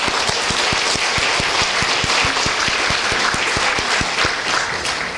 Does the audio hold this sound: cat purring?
no